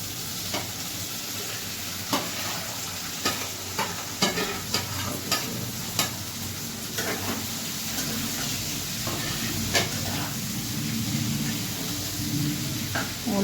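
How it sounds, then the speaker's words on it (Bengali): Fried okra stirred into browned onions in a hot pan: a steady, close sizzle with repeated sharp clicks and scrapes of the spoon against the pan, with no voices. "এইভাবে যখন পেঁয়াজটা লাল হয়ে আসবে, তখন আপনি ভেজে রাখা ঢ্যাঁড়সটা এতে মিশিয়ে নেবেন।"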